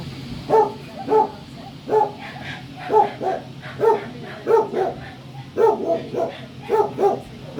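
A Rottweiler barks repeatedly at a steady pace, deep gruff barks close by, with occasional whimpering between them, at an animal shelter in Germany.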